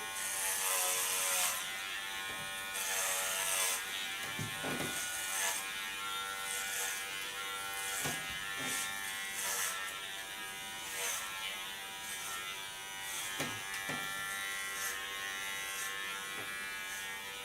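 Electric hair clippers buzz steadily through a buzz cut, a continuous close whine with short pauses and shifts in pitch as the blades move across the head, and no talk over it.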